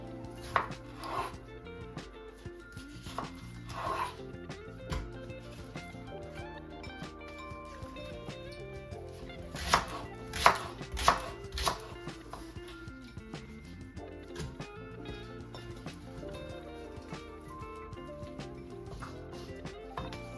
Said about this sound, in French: je vais découper nos condiments pour pouvoir écraser ça dans un mixeur